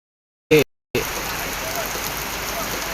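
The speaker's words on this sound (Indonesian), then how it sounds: "Hujan deras" Heavy rain pouring steadily around a utility pole during electrical line work, a dense continuous hiss starting abruptly after a short burst and holding at an even level to the end.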